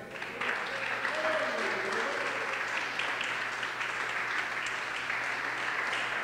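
Applause from a congregation at a Sunday church service swells in after a brief pause and carries on steadily, with voices faintly audible beneath the clapping.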